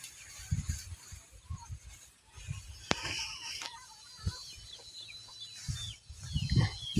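Chickens fighting squawk and cluck loudly nearby in sharp, agitated bursts, with scuffling and a few flapping sounds between calls.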